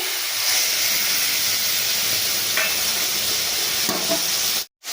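Water used to rinse ground spices is poured into a pan of fish curry with eggplant, setting off a loud, constant hissing sizzle up close that runs for several seconds with a few faint clinks, then cuts off abruptly.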